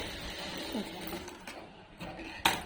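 A sewing machine top-stitching a seam on a princess-cut blouse, running with a steady mechanical whir at moderate volume, with a brief sharp click near the end.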